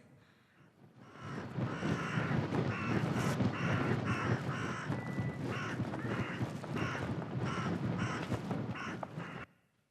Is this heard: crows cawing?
yes